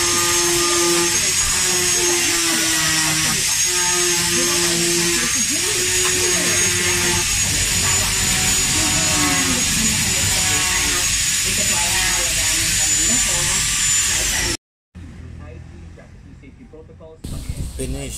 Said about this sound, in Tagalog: Grinder lang po ginamit ko.